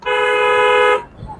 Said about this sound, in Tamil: ஹாரன் வந்து லாங்காக அடிங்க, அப்போ தான் வழி நமக்கு தானாக கிடைக்கும்.